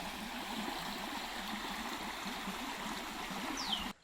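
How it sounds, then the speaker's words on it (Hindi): A jungle stream flows steadily at a zoo safari park, its close, even gurgling and rushing water continuing without a break, with a faint bird chirp just before the sound ends. "यहाँ से पानी आ रहा है और यहाँ पे बह रहा है"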